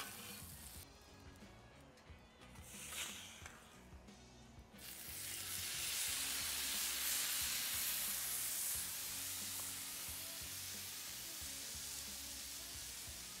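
Steak searing in butter on a Blackstone griddle gives a steady, broad sizzle that swells and stays loud for most of the stretch, with quieter handling noises at the start.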